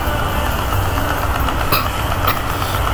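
Engine drone of a warplane in the video game World of Warplanes, an overheated engine, a steady low rumbling hum running continuously at close range with no voices.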